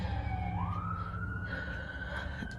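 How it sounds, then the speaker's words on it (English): An emergency vehicle siren wails outside, a rising tone that climbs and then holds steady, fairly faint and distant over a low background rumble of traffic. "Sorry about the sirens."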